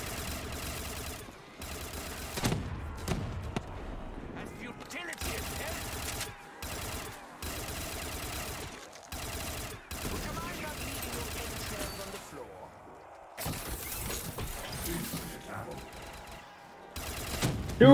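Rapid bursts of gunfire from a Black Ops 3 Zombies round fitted with explosive weapons, loud and repeated with short gaps, mixed with booms and players shouting over the shooting.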